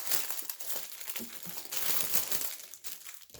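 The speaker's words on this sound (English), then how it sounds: "Sorry for the crinkling." A plastic package is torn open up close, making continuous loud crinkling and rustling for the whole few seconds, with no talk.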